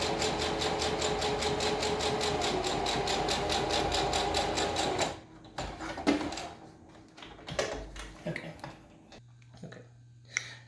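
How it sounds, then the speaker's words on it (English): A home sewing machine straight-stitches across the end of a homemade fabric mask, whirring in a fast, even, close rhythm for about five seconds before stopping, followed by scattered clicks and fabric handling. "I'm going to finish the straight stitch across the other end."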